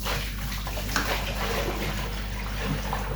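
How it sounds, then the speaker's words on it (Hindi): Tap water is poured out and splashes steadily onto the ground beside a plain water faucet, a close, continuous wash of water with a low hum beneath it. "इसलिए मैं ये पानी यहीं पे ड्रॉप कर देती हूँ"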